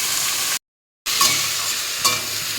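Ash gourd curry is stirred in a pan, a close, loud steady sizzle with a few scraping clinks of the spoon. A brief dead gap cuts in near the start.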